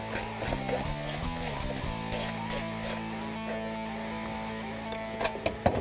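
A ratchet loosening the outer retaining bolt on a 2015-2023 Mustang EcoBoost air intake box, with rapid pawl clicking in short strokes followed by a steadier ratcheting run, close up and without talk.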